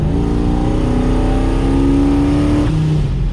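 Supercharged Dodge Dakota RT pickup engine revving loudly up close, with the pitch climbing steadily over a few seconds and then dropping back to a lower drone, no voices over it.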